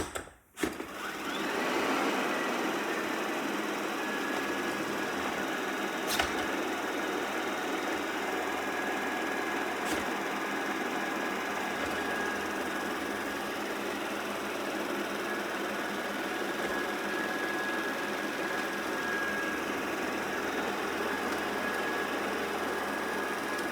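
A Shark robot vacuum from Costco runs with a steady, close mechanical whir and hum that holds nearly unchanged, broken only by a few faint clicks and knocks.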